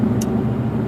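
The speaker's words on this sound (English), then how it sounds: "I'm driving home from work right now" Steady low rumble of a car heard from inside the cabin while driving home from work, a continuous road and engine drone with no talking.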